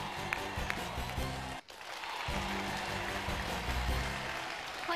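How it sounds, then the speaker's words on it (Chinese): A studio audience on a Chinese television quiz show applauds steadily, a dense crowd clapping that drops out briefly, then resumes and carries on loud and continuous to the end. "我们一起期待，掌声鼓励。"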